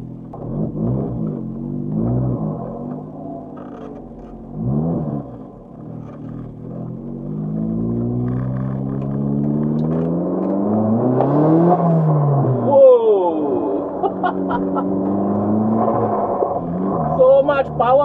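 A turbocharged S1 Lotus Elise with a 1ZZ engine accelerates on a wet road, the engine note sweeping up and down through the gears in long, loud rising drones, with someone talking over the engine.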